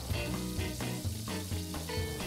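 A squash and moringa omelette sizzles and crackles steadily in a frying pan as it browns. The frying is close up and at moderate volume, with small pulsing bursts of spitting oil.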